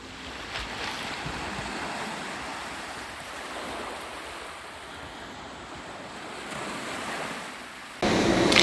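Ocean surf at a summer beach with clear water, a continuous broadband wash of waves and wind rushing steadily near the microphone, with a louder gust of wind noise at the end and no talk.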